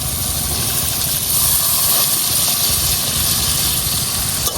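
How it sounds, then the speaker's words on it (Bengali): Taro stems tipped into shrimp spice paste fried until the oil separates, giving a steady loud sizzle and hiss throughout, with no talking. "এখন দিয়ে দেব আমি যে কচুর ডাঁটাটা"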